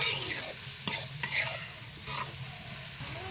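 Onions fry in oil with salt while being stirred, giving a steady close sizzle broken by a few scraping strokes and light taps of the utensil against the pan. No voices.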